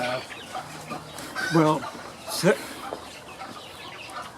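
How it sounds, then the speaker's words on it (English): Replacement sitting hens on a farm cluck in short bursts, a few close calls rising over a quiet barnyard background, with a person briefly speaking. "those are my replacement sitting hens"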